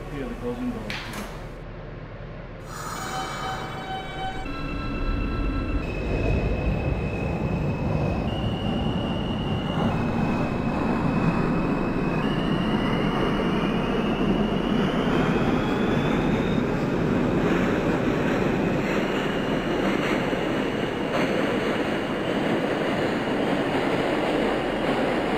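An Alstom & Siemens R160 subway train on the NYC E line in the OpenBVE simulator starts off with rising motor whines and tones, then a steady loud roar and rumble of running on the rails, with an announcement voice early on.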